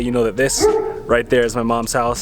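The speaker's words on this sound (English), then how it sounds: "I apologize for the dog barking in the background." A dog at a house in El Paso, Texas barks and yips repeatedly in the background while someone talks over it, the barks distinct and fairly loud.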